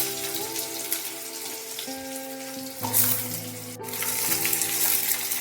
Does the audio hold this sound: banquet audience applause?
no